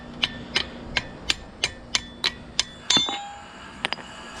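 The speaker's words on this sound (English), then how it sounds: "So for this right here, just hammer this off." Eight sharp metallic hammer strikes at a steady rhythm, knocking a part off a 2004 Infiniti G35X shock absorber, followed by a clatter and a couple of lighter taps, close and distinct.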